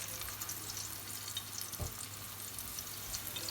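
A paratha fries in hot oil over a medium flame, giving a steady, close sizzle throughout with one brief thump partway as it is flipped in the pan.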